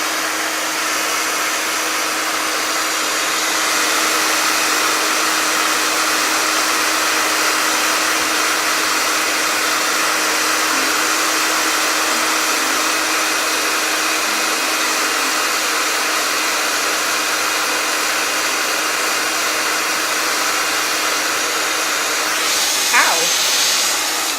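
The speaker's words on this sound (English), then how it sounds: "So I'm just going to hairdryer it quickly again." A hair dryer blows continuously at close range during Halloween special-effects makeup, a loud, steady airy whoosh with a faint tonal whine that lasts the whole time, ending with a brief click.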